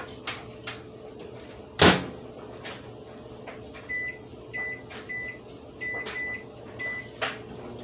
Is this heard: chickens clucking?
no